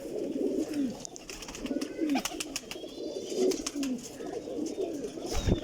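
Rampuri pigeons coo in repeated, rolling low phrases close by, a dense ongoing chorus with occasional sharp clicks and handling noises mixed in.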